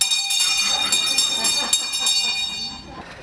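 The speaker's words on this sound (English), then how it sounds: "This is the school bell from Hogemeller School" Old hand-rung bell from a one-room schoolhouse, clanging repeatedly in quick, loud, ringing strokes that fade out at the end.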